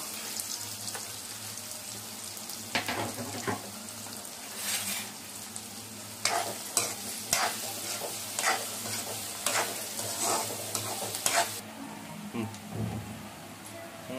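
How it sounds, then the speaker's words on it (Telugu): Chopped onions and green chillies sizzling in hot oil in a pan, with scraping and stirring clatter over a steady frying hiss. "ఆయిల్ హీట్ అయిన తర్వాత అయితే ముందుగా కట్ చేసి పెట్టుకున్న ఆనియన్ ఇంకా మిర్చి అనేది వేసుకుంటున్నానండి"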